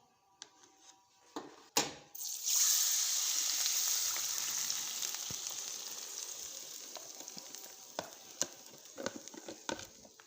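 Semolina tipped into browned sugar and ghee in a pot, a sudden hiss rising into a steady sizzle that slowly fades, with a few scraping knocks of a spoon afterward.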